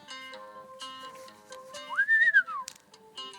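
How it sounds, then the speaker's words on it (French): Mario whistles in the Hello Mario video game: a bright, rising-and-falling electronic whistle melody over a soft game tune, clear and up close with no talk. "Oui, des fois, c'est vrai, il siffle."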